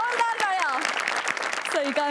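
Audience applause at a Marathi comedy show, a steady wash of clapping running underneath a host's continuous talking.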